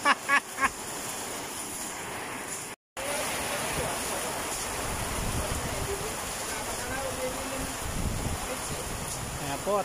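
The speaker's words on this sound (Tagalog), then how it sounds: "Sinabutan na ng ulan sa taas." Rain begins falling over an outdoor site, a steady broadband hiss that fills the whole stretch after a few brief voice bursts at the start, with a short break partway through.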